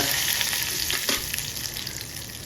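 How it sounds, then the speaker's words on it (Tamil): Urad dal and mustard seeds sizzle steadily in hot oil while being stirred, a continuous close frying hiss with faint scraping from the spoon and no voices. "எடுத்து வச்ச உளுத்தம் பருப்பு சேர்த்துக்கலாங்க. சேர்த்து கொஞ்சம் செவக்கட்டுன்னு திருப்பி கொடுக்கலாங்க"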